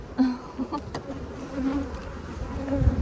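Honey bees buzz around an opened hive, a close, steady swarm drone with individual bees whining past and rising slightly in intensity toward the end.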